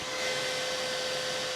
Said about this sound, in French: Par contre, le bruit du micro-ondes,